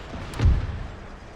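Cannon fire from an Empire: Total War battle, a single deep boom that swells and rolls off into low rumble, with no other sounds alongside.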